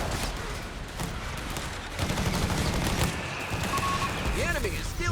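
Mortar shells and gunfire in the real-time strategy game Company of Heroes 3, with dense crackling small-arms fire and blasts, a louder burst of impacts midway and a whistling tone near the end, and a voice talking over the din.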